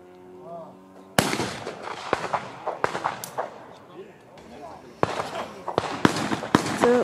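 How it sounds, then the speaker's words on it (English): Shotgun blasts ring out at an Italian clay-disc shooting range, a series of sharp, loud reports spaced a second or two apart, some coming in quick pairs, with a voice talking between shots. "So they're shooting these discs that they throw in the air"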